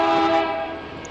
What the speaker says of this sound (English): I think our train is approaching.